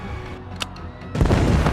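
A film explosion, set off with an explosive hidden under a mattress, begins after a quieter, rumbling stretch. It erupts into a loud, sustained blast that fills the end of the moment.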